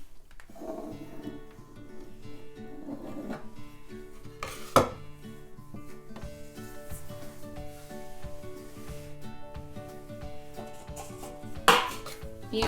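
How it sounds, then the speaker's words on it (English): Excess rolled pie crust dough is trimmed away from a dish. The sound is faint, with soft scraping and cutting, light taps and a couple of sharper clinks, and no one speaks. "Once your pie crust is just over an inch on all the sides, you can trim it out."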